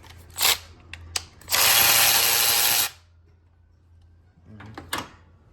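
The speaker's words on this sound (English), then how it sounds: "we're gonna go ahead and remove the valve cover now" A ratchet removing valve cover bolts on a Mazda engine, a couple of short clicks followed by a long rapid ratcheting run, then quiet and a few more clicks, heard up close.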